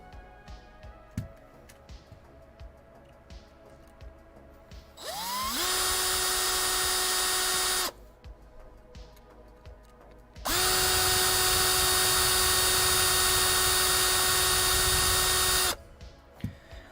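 A power drill whines in two bursts while drilling out a screw from a Nintendo Switch shell, a short one then a longer sustained run, with quiet pauses between.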